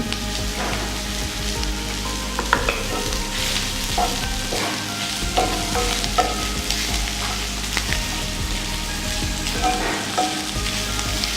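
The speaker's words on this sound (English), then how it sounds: "The next thing that goes in now is the cumin. The cumin powder goes in." Mushrooms and lamb fry over low heat as cumin powder is added and stirred in, giving a loud, dense sizzle with repeated scraping stir strokes and clicks throughout, without speech.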